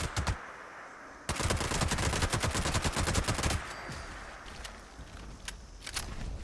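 A handmade rifle with two-shot furious effects in Fallout 76 fires a long, fast automatic burst of loud, closely spaced shots. After a pause come a few more short bursts, with no talking.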